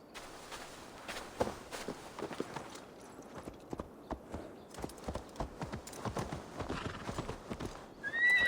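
Hooves clip-clop at a walking pace in Assassin's Creed Valhalla, with a horse's whinny near the end, moderately quiet and close.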